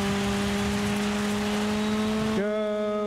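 Race car engine in the rally game DIRT 5 holding a loud, steady high-revving drone, then a gear change near the end drops the pitch before the revs climb again.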